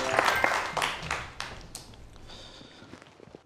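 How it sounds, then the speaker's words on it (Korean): Brief audience applause for a lecturer on emergency first aid for choking, a few seconds of clapping that starts moderately loud and fades, with scattered taps. "자, 박수 부탁드릴게요."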